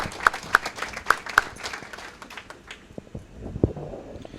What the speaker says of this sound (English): let's get these ladies started off right with a big round of applause